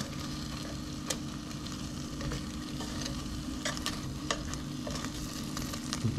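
Chicken wings for hot wings crackle and sizzle steadily in an air fryer basket, with occasional sharp clicks and taps as they are flipped, fairly quiet and close.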